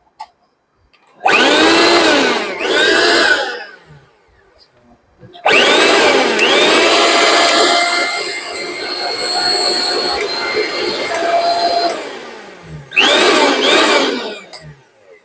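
A repaired mixer grinder is run in bursts during a test: a loud, harsh whirring motor whine starts and stops three times, with a long middle run whose pitch wavers, and short silent gaps between.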